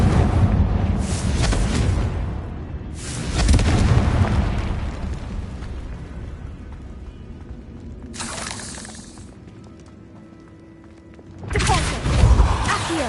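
A Confringo spell's fiery blasts in Hogwarts Legacy: four separate bursts, each a sharp explosive crack with a crunching, shattering tail, spaced several seconds apart and broken by quieter ambient stretches.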